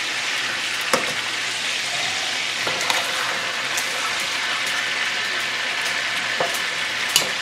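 Chicken for coq au vin fries in a pan, a loud, even crackling sizzle like rain on a surface, with occasional faint pops and taps over the continuous hiss.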